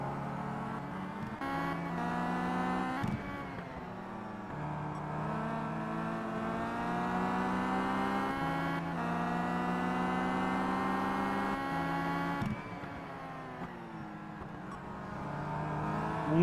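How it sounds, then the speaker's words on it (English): Touring cars race around Brands Hatch in the Simraceway sim racing game, a 2011 WTCC race including a Volvo, their engines a steady, continuous drone and whine that shifts as they lap, with no talk over it. "Luke's going to sweep his Volvo around the outside"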